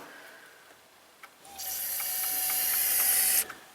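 During a fuel leak test on a car, an electric fuel pump kicks on with a sudden steady whine and hiss, running for about two seconds after a few small clicks, then cutting off abruptly.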